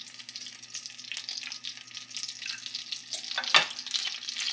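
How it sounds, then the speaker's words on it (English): Butter, three tablespoons of it, melts in a pan over medium-high heat with a soft, steady sizzle. Light scraping and stirring noises run through it, and one brief louder crackle comes near the end. "add 3 tablespoons of butter to our pan. Let that melt."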